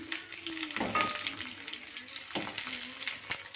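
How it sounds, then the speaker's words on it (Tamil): Onions frying and being stirred in a pan while making Tamil potato gravy (urulaikilangu kulambu). A steady close sizzle runs throughout, with scraping stir strokes at intervals. "அடுத்தது வெங்காயத்தை மிக்ஸ் பண்ணி நம்ம வதக்கிக்குவோம்"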